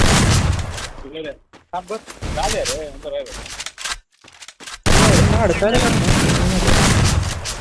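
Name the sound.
gunshots in a 1 vs 1 shooting video game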